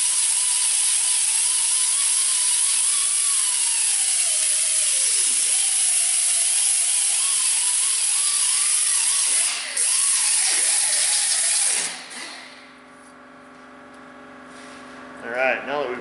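A power tool whines and grinds continuously while cleaning rust off the rear axle flange of a Ford F150, loud and close with a wavering pitch, then winds down and stops near the end.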